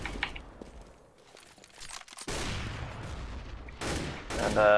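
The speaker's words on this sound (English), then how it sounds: "some nice nades and flashes just coming in from the CT side now" Round of CS:GO combat with grenades and flashbangs thrown in from the CT side amid gunfire: quiet scattered shots, then sudden loud bursts and crackling blasts, with a brief voice speaking near the start.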